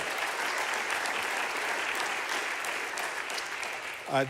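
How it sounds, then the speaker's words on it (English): Steady audience applause for the breakfast sponsors at a live show, a sustained wash of clapping that holds evenly before tapering off, with a brief voice at the very end. "how about a nice round of applause for the breakfast people today, the Boulders on Southern"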